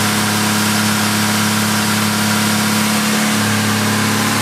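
A GM Vortec 4200 inline-six engine idling on a Megasquirt with OEM coil-on-plug and crank trigger, a steady close mechanical hum with a smooth, even rhythm and no voices.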